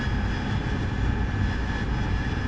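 Steady jet engine drone heard from inside an aircraft in the DCS World flight simulator during a night strike mission: a continuous, even rumble and hum, with no talk.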